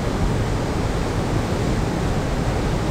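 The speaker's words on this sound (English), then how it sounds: "Pretty cool waterfall." Ben's Bluff waterfall in Cockscomb Basin Wildlife Sanctuary, Belize, roaring as a dense, steady wash of rushing water close by, with no voices.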